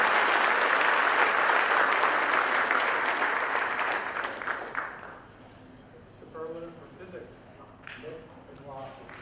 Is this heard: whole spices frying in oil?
no